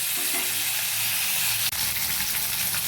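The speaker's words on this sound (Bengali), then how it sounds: "মাছগুলোকে আমি উল্টে দিচ্ছি" Fresh fish fries in hot oil as the pieces are flipped, a dense, loud, continuous sizzle with one sharp click partway through.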